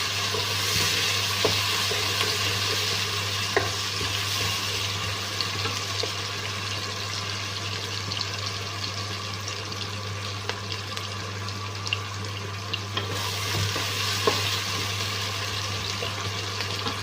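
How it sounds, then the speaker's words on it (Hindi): Onions frying in oil in a pan for aloo gosht, a steady close sizzle running throughout with a constant low hum underneath and occasional faint clinks. "ये मैंने इसमें प्याज डाल दिए हैं। ठीक है, मैं प्याज़ों को लाइट ब्राउन करूँगी।"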